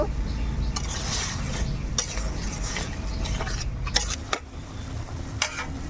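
Onion, turmeric, salt and other spices are stirred together in a cooking pan for an egg curry, giving a steady scraping and gentle sizzle punctuated by a few sharp utensil clinks.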